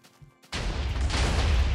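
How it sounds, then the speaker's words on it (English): TNT blowing up as fireworks in a video game erupts suddenly after a quiet moment into a loud, sustained roar of crackling blasts that keeps going to the end. "Ooh, wow, that was a nice fireworks show."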